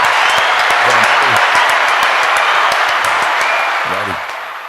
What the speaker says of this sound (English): A round of fucking applause.